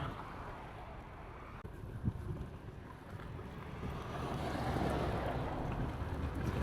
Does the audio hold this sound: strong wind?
yes